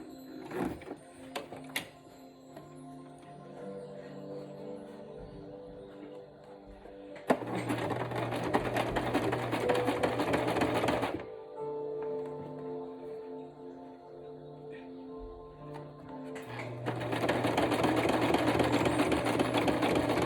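A sewing machine stitches along the edge of a homemade washable fabric mask with elastic, running in two loud sustained bursts separated by quieter handling and a low mechanical hum.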